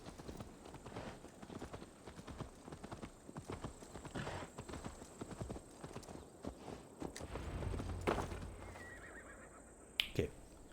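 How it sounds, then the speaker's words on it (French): Steady clip-clop of horse hooves walking at an even pace in a video game for the whole stretch, with a couple of sharp clicks near the end. "Le monsieur a fait une petite balade à cheval."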